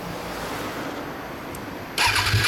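A 2016 Kawasaki Z1000SX motorcycle fitted with a Vance & Hines exhaust fires up abruptly near the end, its engine bursting into a loud, close rumble after a long stretch of steady background hiss.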